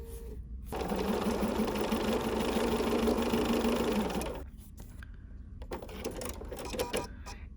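A home sewing machine stitches quilt block pieces along a line in one steady, fast whirring run of about three seconds, near and loud, then stops and is followed by quieter clicks and handling noises.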